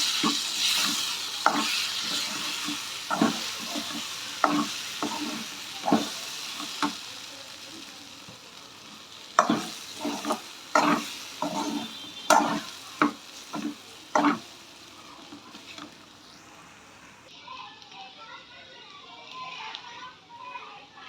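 Capsicum and egg poriyal being stir-fried in a pan, with a steady sizzle under repeated sharp scrapes and taps of a spatula against metal, close by, thinning to a softer sizzle near the end.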